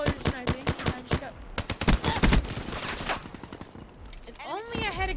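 Rapid automatic gunfire from Call of Duty: Black Ops III cracks in quick bursts, loud and close, with denser shots in the middle and a voice speaking near the end.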